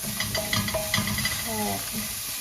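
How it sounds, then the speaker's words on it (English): Onion, garlic, ginger and chilies stir frying in a pan for a spicy tofu Manchurian, giving a steady hiss with spatula scrapes and clinks close by; a voice speaks faintly over it. "I want to make sure this onion and garlic is properly stir fried"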